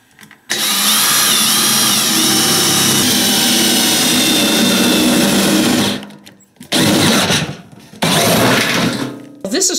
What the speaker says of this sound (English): So I'm just going to drill a series of a few, just enough so that the soil can drain.